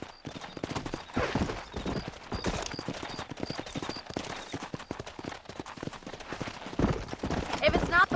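Horse hooves in the video game Red Dead Redemption clip-clop in a steady, brisk rhythm close by while people talk over them, with faint distant gunfire.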